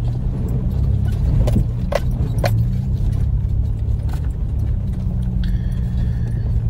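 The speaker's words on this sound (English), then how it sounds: "Some footage here shot from Luca's car crossing it with Matt's Prado just in front" Toyota Prado and another car fording a shallow river crossing, with steady low engine rumble and water wash throughout, plus a few brief splashes or clinks and faint higher tones near the end.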